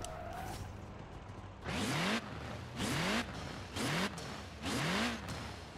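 Volkswagen Golf engine in Forza Horizon 4 heard from the front of the car, four repeated rising revs, each climbing in pitch and cutting off, over a steady idle hum.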